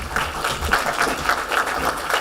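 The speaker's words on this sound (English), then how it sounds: "A better round of applause, please." An audience at a technology summit in Kenya applauds with a steady wash of clapping that holds evenly for a couple of seconds.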